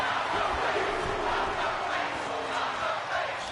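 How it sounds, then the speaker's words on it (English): A dense arena crowd in the WWE 2K25 wrestling video game roars and yells continuously, a broad loud wash of many voices with no pauses. "The crowd is really, really deafening right now."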